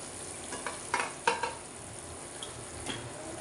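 Pieces of dadha fish drop into sizzling masala in a pan for a Marathi-style fish curry, giving a steady frying hiss with a few clattering stirs and scrapes near the start.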